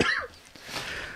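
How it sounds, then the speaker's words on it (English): A person with a lingering cough lets out a short cough, followed by breathy throat noise and quiet room sound. "I'm still coughing."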